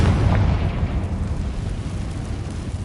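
A Confringo fire spell bursts in Hogwarts Legacy, a loud booming blast at the start whose rumble rolls on and slowly fades over a few seconds.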